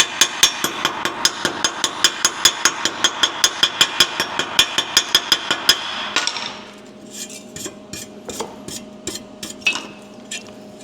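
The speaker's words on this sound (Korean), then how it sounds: "자, 슬러그를 한번 풀어보도록 하겠습니다" A chipping hammer knocks slag off an arc weld bead on thin square steel pipe, fast regular metallic taps in a long close run, then sparser, softer scraping knocks.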